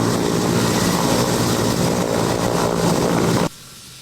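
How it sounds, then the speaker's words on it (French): A Mi-171 air force helicopter lands at Djema in the Nioro du Sahel region, its engine and rotor roaring loudly and steadily, close by, then cutting off abruptly near the end. "Un hélicoptère Mi-171 de l'armée de l'air se pose à Djema dans la région de Nioro du Sahel."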